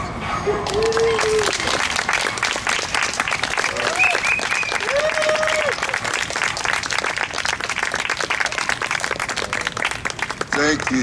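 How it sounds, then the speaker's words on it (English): Sustained applause fills the room as an audience gives a standing ovation, dense steady clapping running throughout with brief voices and calls rising above it. "a standing ovation and prolonged applause is not necessary at this time"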